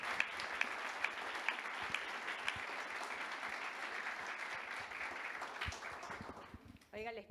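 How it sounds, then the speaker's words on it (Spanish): An audience at a financing-types panel event applauds the presenters with sustained, moderately distant clapping, and a voice speaks briefly near the end. "le pido nuevamente un tremendo aplauso a estos"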